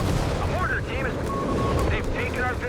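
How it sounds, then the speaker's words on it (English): Nebelwerfer rocket barrage slamming into a mortar crew in the Company of Heroes 3 strategy game, a dense rumble of overlapping blasts and crackling debris under continuous commentary. "Nebelwerfer barrage there, striking the mortar crew."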